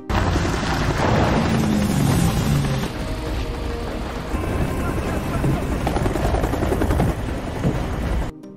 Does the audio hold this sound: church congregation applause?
no